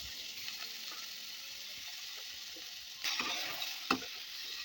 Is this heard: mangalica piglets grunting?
no